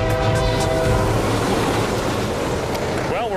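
A train rumbles past on a railroad track in Oregon with a steady, loud roar and a sustained horn blast, followed by a rising whistle-like tone at the end.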